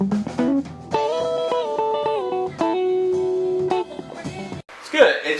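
Electric guitar run through a saturation effect, part of a mix of guitars and keyboards, plays sustained, gritty chords and held notes for about five seconds. A voice cuts in briefly near the end.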